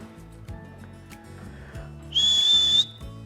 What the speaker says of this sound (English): The whistle blew. Kick off!